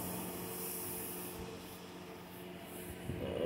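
Primer sprays from a can onto a 1981 Monte Carlo car body in a steady, close hiss that runs unbroken for a few seconds.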